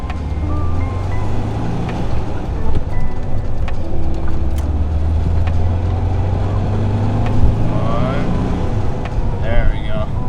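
A 1978 VW Beetle's air-cooled engine drones and putters while driving at about 35 mph, its low hum rising and falling, with occasional clatter and road noise.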